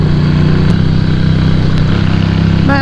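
A Moto Guzzi V7 engine while riding, a loud steady throbbing mid-pitched drone heard close up, with a brief rising tone at the very end.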